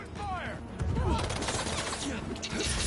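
Rapid bursts of gunfire crackle through a fight in the Spider-Man 2 video game, dense and continuous, mixed with game voices and a player talking over it.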